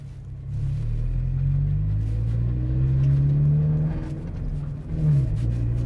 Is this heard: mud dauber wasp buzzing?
no